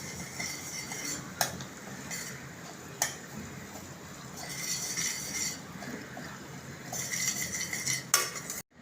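Dabeli potato masala is stirred in hot oil in a pan, metal spoon clinks and scrapes striking at irregular intervals over a faint soft sizzle.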